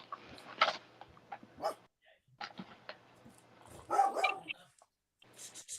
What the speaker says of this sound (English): Pretty dog.